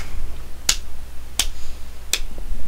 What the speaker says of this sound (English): I do applaud quietly